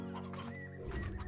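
Chicken clucking in the Slime Rancher video game: a close, clear run of short hen clucks and a drawn-out squawk, heard alone over a quiet background.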